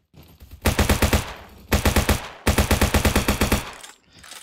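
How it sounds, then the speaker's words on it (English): A full-auto MP40 submachine gun fires in the Roblox game Bad Business, loud rapid bursts of evenly spaced shots in three runs with short gaps between them. "So it's like a full auto Tech 9."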